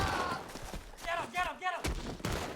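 Gunfire during a Red Dead role-play game session: several sharp shot bursts crack out, most clearly in the second half, with people talking throughout.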